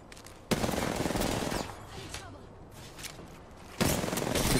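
Rapid automatic gunfire in the Apex Legends video game, with two loud sustained bursts at the start and end and quieter scattered shots between them, no talking.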